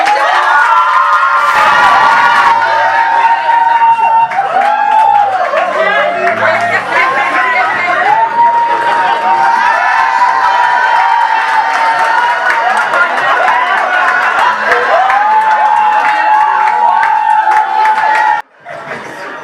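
An audience at a fashion show or pageant defile claps, cheers and shouts for about twenty seconds, a loud, continuous crowd roar with high whoops and voices, dropping away sharply near the end.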